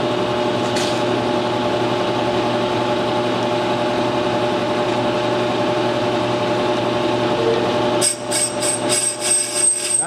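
A brake drum turns on a lathe with a steady mechanical hum and whine, and near the end the cutter meets the metal, adding a sharp, high-pitched ringing scrape with uneven flutter.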